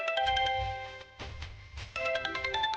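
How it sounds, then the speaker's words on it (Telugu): A mobile phone ringtone plays a bright repeating melodic pattern in short bursts, fairly quiet and alone without voices. "అన్నయ్య, కృష్ణ ఫోన్ చేస్తున్నాడు."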